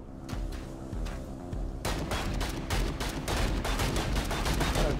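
Pistol shots fired in the game Vicious Attack Llama Apocalypse, heard first as scattered reports and then as a dense, rapid string of sharp bangs over a busy game background.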